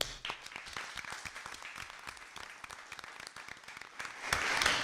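A round of applause from the audience at a school district board of education meeting, dense steady clapping lasting several seconds, moderately distant and picking up slightly toward the end.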